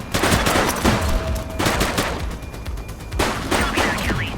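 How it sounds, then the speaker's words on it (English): Heavy gunfire from a police shootout in The Precinct, rapid bursts of shots in two loud clusters separated by a brief lull, with a few thinner pops in between. "He's shooting!"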